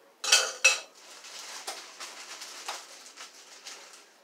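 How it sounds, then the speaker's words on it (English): A metal spoon shifted among dishes while making an Easter dessert filling, two sharp clinks near the start, then softer scattered taps and scrapes of tableware trailing off, close and quiet. "let me move this spoon out of the way"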